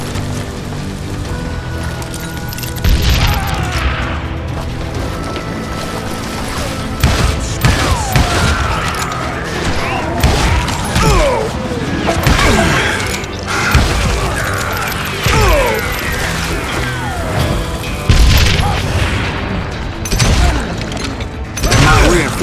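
Gunfire in the video game Call of Juarez: Gunslinger, repeated shots and booming blasts in a chaotic firefight, loud and close, mixed with clattering mechanical sounds and game music.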